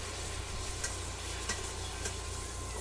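A snack mixture with soy sauce is stirred in a pan, a faint, low sizzle with a few soft periodic clicks from the utensil, quiet and even throughout without voices.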